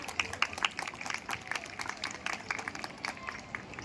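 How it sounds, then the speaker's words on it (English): Parents at a school sports fair for pre-kindergarten and foundational-years children clap in light, uneven applause, a patter of scattered hand claps at moderate distance with faint crowd murmur beneath. "Parents, give them a big round of applause"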